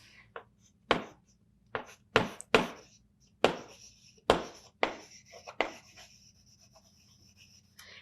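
Marker or chalk strokes tap and scrape on a classroom board during a biology lesson on glands, coming in short irregular bursts with quiet gaps between them.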